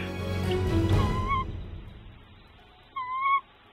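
A tawny owl at its nest gives two short, faint hooting calls a couple of seconds apart, after a burst of rustling commotion near the microphone.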